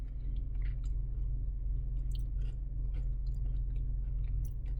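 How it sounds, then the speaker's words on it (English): Someone chews a mouthful of sweet potato pecan cobbler, soft squishy mastication sounds repeating close to the mic over a low steady hum, with no talking. "Trying to stop chewing."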